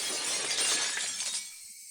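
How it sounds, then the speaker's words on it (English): Glass shatters in a sharp, bright crash with a dense spray of tinkling fragments that fades quickly, heard alone as a game sound effect in Higurashi When They Cry. "The unpleasant piercing sound of shattering glass"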